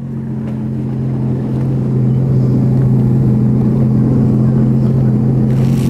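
A motorcycle idles and moves in reverse gear, giving a loud, steady low engine drone with a strong hum that swells slightly as it goes, heard alone without talk.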